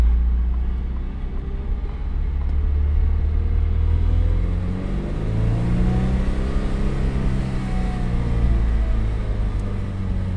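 A 2003 Toyota MR2 Spyder's 1.8 liter engine, the same motor used in the Corolla, idles with a deep steady rumble, then is revved up and back down.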